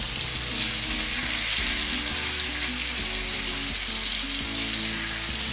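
Hake sizzles and crackles loudly in hot oil, a continuous bubbling spit close to the pan, with faint clinks now and then.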